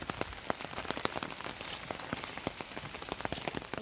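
Steady rain patters on a surface near a horse barn, with dense, close drops and occasional sharper taps throughout and no voices.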